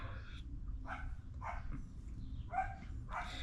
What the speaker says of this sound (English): I know you guys could hear those dogs right now.